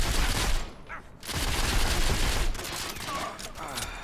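Gunfire in the mobile shooter Modern Combat 5: a dense flurry of rapid shots with a brief lull near the one-second mark, then continued firing at close to mid range with game noise behind.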